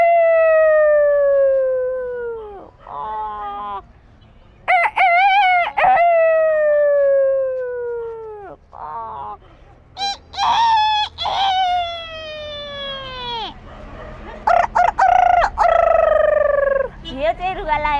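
A human voice imitates a rooster crowing, giving several loud, close, drawn-out crowing calls that slide downward in pitch, separated by short pauses.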